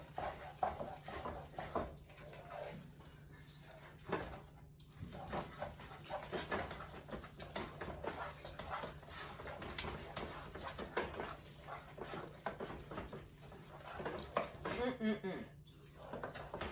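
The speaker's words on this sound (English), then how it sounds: "Make sure you mix it well." Spinach parmesan dip stirred in a bowl, soft clinks and scrapes of a utensil on the dish under intermittent speech, with faint dog whimpers and other background kitchen sounds.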